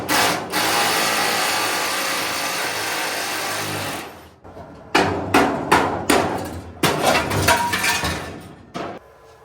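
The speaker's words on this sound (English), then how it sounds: "I got a couple rivets I need to remove. I have the air hammer with the sharpened flat tip." Rapid pneumatic hammering, loud and close: a sustained four-second burst, a brief pause, then several short choppy bursts of an air hammer with a sharpened flat tip chattering against metal while removing rusty rivets from a car hood.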